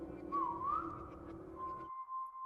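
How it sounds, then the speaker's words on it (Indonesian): Whistling drifts up from a dark basement in the horror film Good Boy: a faint, thin, wavering human whistle, a sliding melodic phrase followed by a held steady note over a low background hum. "Indy mendengar siulan."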